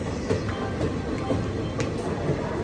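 A local train rumbles steadily along the rails, with faint clicks and a continuous low roar.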